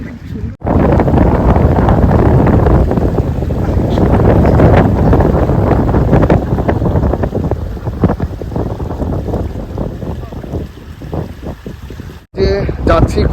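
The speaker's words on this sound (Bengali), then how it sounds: "প্রচণ্ড হাওয়া বইছে" Strong wind beside a river roars and buffets the microphone almost continuously, loud and gusty, with a brief drop near the start and another near the end.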